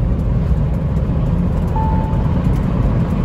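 A Mahindra Thar diesel with a manual gearbox drives in four-wheel drive. A dense, steady engine and tyre rumble carries on at constant loudness from inside or close by, with no voices.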